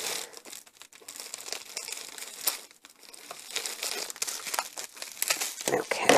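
Crinkly plastic packaging from Ofra Cosmetics highlighter products is cut and pulled open, giving close, irregular crackling and crumpling rustles that come and go, with a voice heard at times.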